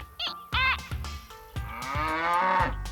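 A cartoon cow gives several loud, close moos, starting with short clipped calls and ending in one long drawn-out low moo, with no talking over it.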